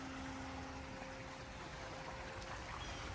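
Water trickles steadily from a small waterfall and bubbler on the sun shelf of a new-construction backyard pool home in South Tampa, Florida, along with a faint pump hum; quiet, continuous and even, with no one speaking.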